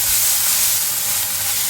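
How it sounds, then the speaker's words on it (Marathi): Ground masala paste sizzles and fries in a hot kadhai, a loud, steady, close-up hiss of crackling oil throughout with no pauses and no talking. "हा छान परतून घ्यायचा आहे।"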